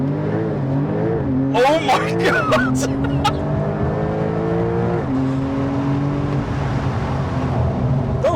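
A 650-horsepower Porsche 911 Turbo S launches hard under launch control, its engine note climbing through rapid gear changes as loud, close interior acceleration. Excited voices shout over the roar.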